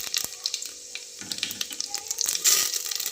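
Cumin seeds frying in hot oil in a pan, a soft crackling sizzle with small pops and some clinks, close by with no talking.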